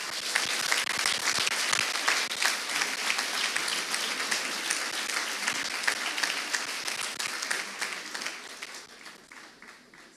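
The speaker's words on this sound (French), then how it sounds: "Merci d'applaudir Michel Coquillat." An audience at an osteopathy college graduation ceremony in Aix-Marseille applauds Michel Coquillat, dense, sustained clapping from a large crowd that gradually thins and fades toward the end.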